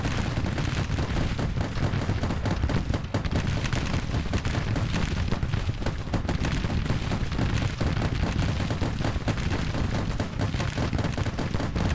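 Dense gunfire from a Grand Tactician battle rolls on continuously, a thick layer of overlapping musket volleys and distant booms with no pauses and no voices.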